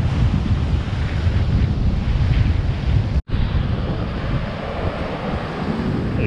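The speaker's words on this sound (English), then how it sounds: "It's got really windy now, isn't it?" A strong westerly wind on the beach at Matata blasts continuously across the microphone with a dense, loud, low rumble and surf underneath, broken only by a momentary dropout partway through.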